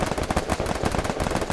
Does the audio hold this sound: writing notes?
no